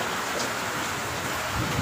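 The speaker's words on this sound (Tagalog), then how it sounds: "Ulan na naman. Hindi pa pala tapos yung ulan." Steady, heavy rain pours down in a dense, continuous hiss, close and loud, with no voices, falling in the aftermath of a flood.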